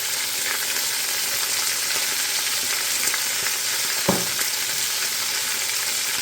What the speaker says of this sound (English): I'm gonna brown these off a little bit